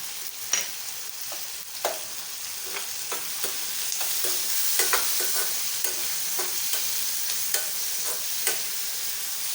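Cumin, mustard seeds, coriander powder, garam masala and asafoetida sizzle in hot oil in a pan for cowpea khichdi, a steady crackling hiss punctuated by sharp spoon taps and stirring knocks against the pan.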